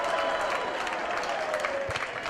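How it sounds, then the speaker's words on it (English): A pro wrestling arena crowd applauds and cheers, a dense, continuous wash of clapping and crowd noise at moderate level with a few louder bursts, and faint voices beneath it. "Van Dam gets the blessing of the crowd and delivers again"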